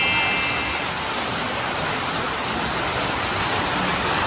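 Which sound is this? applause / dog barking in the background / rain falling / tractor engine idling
rain falling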